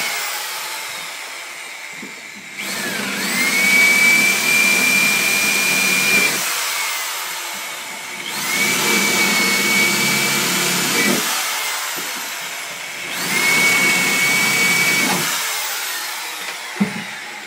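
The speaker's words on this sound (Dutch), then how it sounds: "Nou, even gaatjes boren." A power drill bores holes into a camper wall, a loud whirring motor with a high steady whine. It comes in three separate bursts of a few seconds each, with quieter pauses between them.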